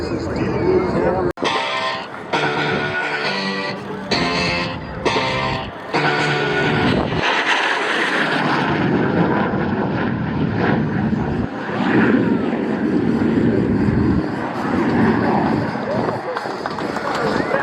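A red propeller airplane flies at the Camarillo airshow with a droning engine buzz that swells and fades. Choppy bursts of sound come first, and people talk over much of it.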